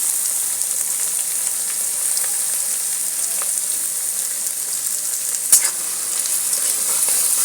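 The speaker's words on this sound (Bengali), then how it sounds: "এইবারে পেঁয়াজটাকে একটু ব্রাউন ব্রাউন করে ভাজবো" Onions sizzle in hot oil after ginger and garlic have browned for an egg tadka. A loud, even frying hiss runs throughout, with a brief stirring clink partway through.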